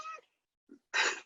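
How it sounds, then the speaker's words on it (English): A house cat gives two short meows close by, a brief call followed after a pause by a louder, longer one, with near silence between. "That's my cat wandering by."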